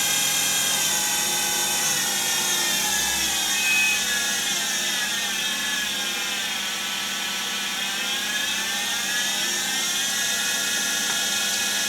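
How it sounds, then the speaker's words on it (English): A mini CNC lathe spindle whines steadily at high speed in a shop, a continuous high-pitched motor drone with faint pitch wavering, close and unbroken throughout. "you can see the spindle spinning up there just in the corner of the shop"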